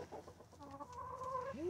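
Hens cluck softly inside a backyard chicken coop at bedtime, a short burst of overlapping clucks and a rising squawk close to the microphone, with no talking.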